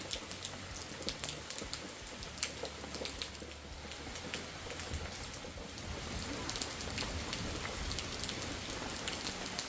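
Evening rain falling in a cloudy hill area, a steady soft patter of drops on surfaces at low level, continuous throughout with no voices.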